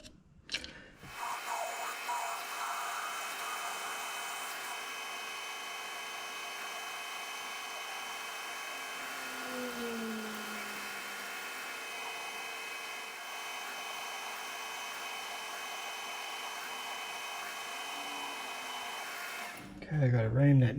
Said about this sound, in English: it's got to have a 3/8 hole drilled and reamed.